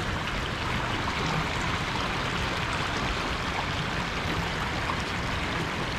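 Water pours steadily over the edge of Bulbule lake in Surkhet, overflowing after days of continuous rain, a dense unbroken rushing wash at constant loudness throughout.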